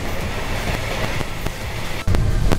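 A passenger train bound for Johannesburg rumbles along the rails from inside a carriage, a steady dense roar with faint rhythmic clicks, then a sudden louder surge of wheel noise near the end.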